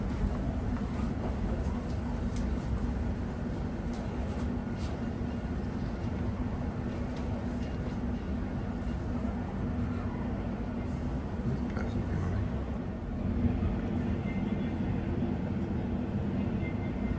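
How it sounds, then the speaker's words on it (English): London Overground Lioness line train at Willesden Junction, a steady loud rumble of the moving carriage with rattling, heard from on board throughout. "Willesden Junction. This is a Lioness line train to"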